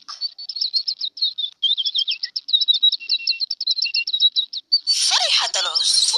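Sparrow chirping, a rapid series of high, thin chirps and trills running continuously and close, ending in a louder, denser burst of twittering.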